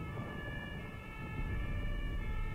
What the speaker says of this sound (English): And of course there's still sirens outside